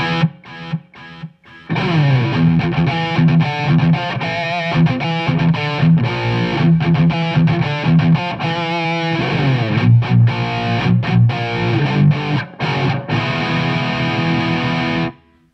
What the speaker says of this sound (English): Then there's a little bit of delay too, kind of a late delay, and it kind of trails off.